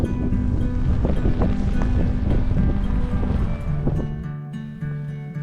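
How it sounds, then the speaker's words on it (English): Strong southerly wind gusting over a snowy Otago campsite in spring as heavy snow falls, a steady loud roar with buffeting microphone rumble and a low droning tone underneath, easing slightly toward the end. "Now it's snowing and like windy as out there."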